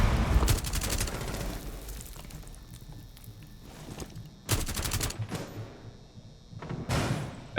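Gunfire in Rainbow Six Siege comes in several bursts of rapid automatic shots, separated by quieter stretches of muffled game ambience and thuds, at moderate loudness.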